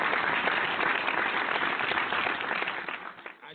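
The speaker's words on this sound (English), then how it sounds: "let's applaud Camden once again" Audience applause on a barbershop talk radio show, a steady wash of many hands clapping together that holds at moderate level before tapering off at the end, with no talking over it.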